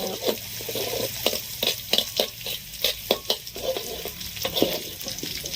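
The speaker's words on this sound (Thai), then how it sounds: "หอมแล้วเจียวเลย" Shallots frying in a pan for a Lao-style salad, stirred repeatedly, giving a steady sizzle broken by close scraping and clattering strokes of a utensil against the pan.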